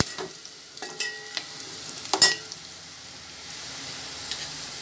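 Onions browning in a pan for a seeramenu fish curry, giving a faint, steady low sizzle with a few clinks and scrapes of utensils early on.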